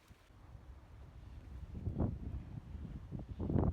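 A Tartan 34 sailboat moving slowly in light wind around the San Juan Islands, with low rumbling wind buffeting on the microphone and soft water sounds swelling and gusting intermittently.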